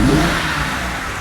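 Engine of a wrecked auction BMW revving, a loud close mechanical roar that swells briefly and then holds steady.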